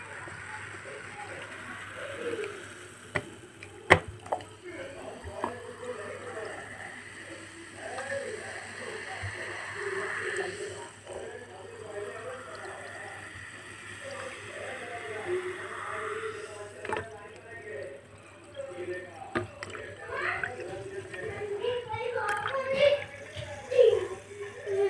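Water runs and trickles as it is poured into bottles at home for guests, a soft, continuous liquid sound under intermittent talking and a few clicks.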